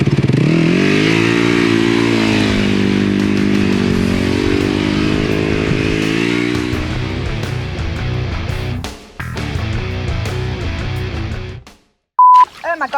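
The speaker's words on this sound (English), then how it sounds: "Some of the disadvantages of a bike is, one, they make a hell of a noise" Dirt bike engine starts and revs loudly up close, a strong buzzing drone with rising and falling pitch for most of the run, briefly cutting out near the end before a short beep and a final burst.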